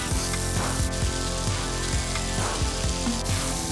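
Sea scallops sear in a hot, oiled skillet, making a dense, even sizzle close up with small rhythmic crackles and pops running throughout, and no one speaking.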